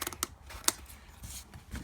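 Scissors cut through felt pads for an Olympia SM3 typewriter, giving a few short, crisp snips and rustles at close range, with one sharper snip standing out, and no talking.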